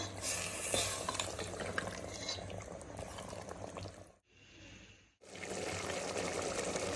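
Water is poured into a pressure cooker holding liver for a roast dish, a steady splashing stream with stirring noises, briefly interrupted by a quieter gap before pouring resumes.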